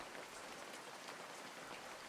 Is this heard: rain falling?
yes